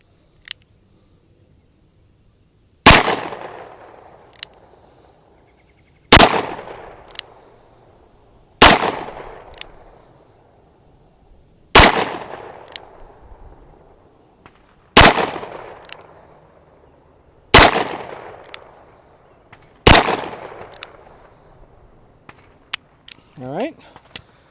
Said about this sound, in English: So first up, we're going to shoot the 9mm.